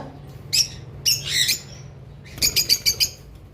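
Lovebirds on a farm, including lutino red-head opaline and blue-series birds, let out shrill chirps and squawks in bursts, ending in a quick run of rapid repeated calls nearby.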